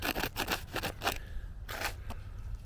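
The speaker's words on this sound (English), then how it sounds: "once we get done scraping this" Scraping dirt and growth off a headstone during cleaning, a run of rhythmic rasping strokes close to the stone, then a short pause and a couple more scrapes, loud and near with no talking.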